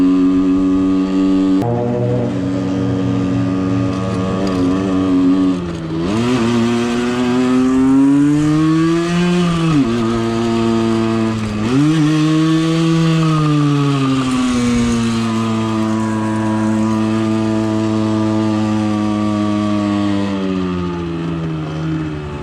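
A Suzuki SMX 50 two-stroke moped engine revs close and loud, a buzzy, raspy drone that surges up in pitch, dips and climbs again over a sustained run.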